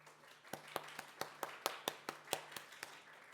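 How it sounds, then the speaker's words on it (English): Sparse, faint clapping after a panel talk on Vancouver cultural institutions, a dozen distinct claps in a slow, even rhythm with a low steady hum behind, like a single nearby person applauding. "Please give a warm round of applause for our speakers, Lynn Chen from the Vancouver Art Gallery,"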